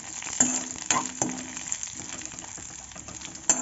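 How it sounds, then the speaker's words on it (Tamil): Food frying in a pan for sago and jaggery kesari, likely in ghee, with a soft continuous sizzle broken by a few sharp clinks of a spoon against the pan. "கொஞ்சம் நல்லா வறுத்துக்கலாம்."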